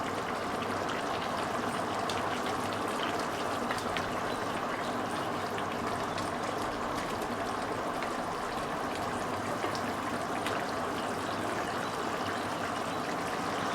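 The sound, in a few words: singi fish curry with green banana boiling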